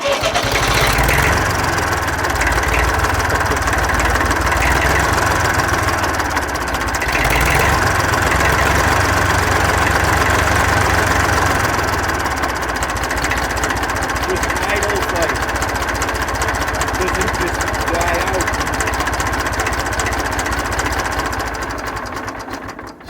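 A 1962 Fordson Dexta tractor's diesel engine idles right after its first start on new injectors, a steady loud knocking chug that runs without a break, with voices talking over it.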